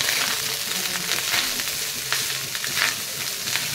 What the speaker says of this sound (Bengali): ওই যে ভাত ভাজা হয়ে গেছে